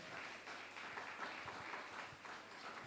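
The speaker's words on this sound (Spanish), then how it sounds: "Yo quiero que le demos un aplauso a todos los papás que están aquí" Sustained applause from a church gathering as the fathers are honored on Father's Day, a dense even wash of clapping that holds steady throughout without spoken voices.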